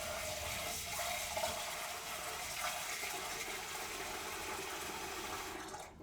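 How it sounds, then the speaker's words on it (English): Steady cold tap water splashes and gushes over rice being rinsed in a bowl, continuous and close, with no talking. "I'm gonna take the rice, run it under this cold water."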